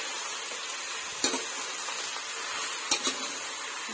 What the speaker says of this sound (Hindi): मैं इसको अच्छे से मिक्स कर लेती हूँ